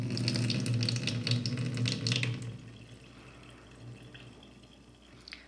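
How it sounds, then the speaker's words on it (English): Tap water runs and splashes loudly over alfalfa and arugula sprouts being rinsed in a kitchen sink for about two seconds, then cuts back to softer trickling, dripping and faint handling. "I'm going to rinse this out."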